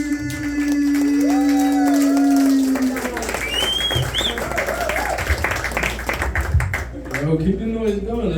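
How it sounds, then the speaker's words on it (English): A comedy club crowd claps for the next comic taking the stage, light scattered applause and cheering under a loud voice on the mic and whoops from the audience. "Clap it up for Brian."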